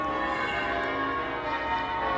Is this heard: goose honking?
no